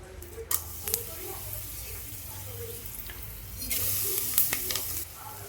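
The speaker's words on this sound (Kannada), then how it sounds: "ಈಗ ಸೋಂಪು ಒಂದು ಅರ್ಧ ಸ್ಪೂನ್ ತೊಗೊಂಡಿದ್ದೀನಿ, ಕಸ್ತೂರಿ ಮೇಥಿ, ಪಲಾವ್ ಎಲೆ ಇದನ್ನೆಲ್ಲ ಹಾಕ್ಕೊಂಡು ಒಗ್ಗರಣೆ ಮಾಡ್ಕೊಳ್ತೀನಿ." Fennel seeds, kasuri methi and bay leaf sizzle in hot oil as a tempering for green vegetable biryani, a steady crackling fry with stirring clinks and a brief louder burst, under occasional talk.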